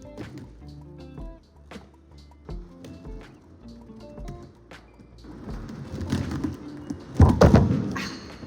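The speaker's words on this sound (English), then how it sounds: "Sometimes you just need a good fall." Someone practicing heel-toe spins in a gym produces a series of thuds and taps on the floor, then louder scuffing and a heavy thump of a fall near the end.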